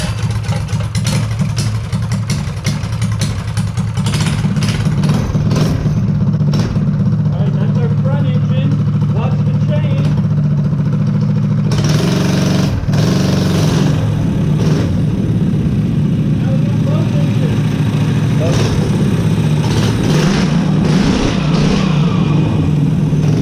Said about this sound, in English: we're going to throw it back together and try to do some burnouts to see what happens